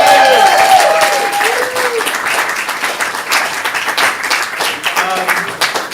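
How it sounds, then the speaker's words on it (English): An audience at a stand-up comedy show claps in a dense, continuous ovation that starts strong and gradually thins out. "Give them a round of applause, please."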